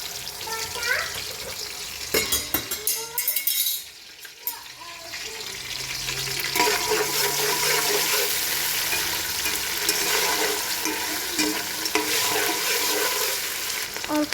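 Bay leaf, cardamom, cinnamon and ginger paste go into hot oil with chopped onion in a pan, first with clattering and stirring knocks, then a brief lull, then a steady, close sizzle with occasional scrapes.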